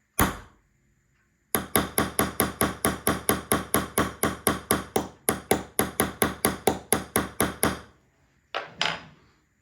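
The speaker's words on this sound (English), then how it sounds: "I'm going to take my hammer" Sharp, loud hammer whacks in a fast, steady series of about thirty ringing metallic strikes on a Rolex watch part being taken apart, with a single tap before and a short clatter after.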